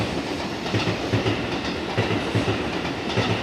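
A train passes close by in Japan, a loud steady rumble with a faint rhythmic clickety-clack of wheels over rail joints throughout.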